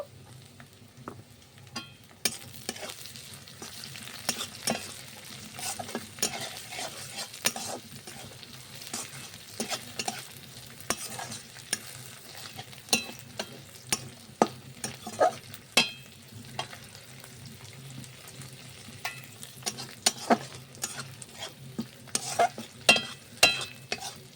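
Onion, garlic and green chillies fry in a pan for Bengali-style bean bharta, a continuous close sizzle with frequent sharp crackles and spatters rising and falling throughout, no talk.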